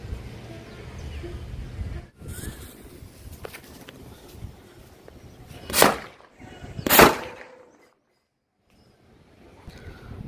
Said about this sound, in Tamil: ஹெவியான சவுண்ட் வந்து வெடிக்குது, செம்ம சவுண்டு